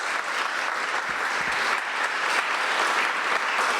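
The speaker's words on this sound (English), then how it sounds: "Let's just give them an applause." Attendees at a small business awards ceremony applaud a team, a steady, full round of clapping from a sizable audience with no speech over it.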